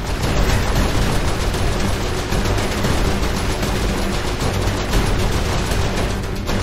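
Turret gunfire in Saints Row 4 hammers continuously in rapid, loud automatic bursts with booming impacts mixed in, dense and close, running unbroken throughout.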